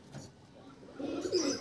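A Kolkata Dhille pigeon coos once, soft and low, close by in a pigeon loft.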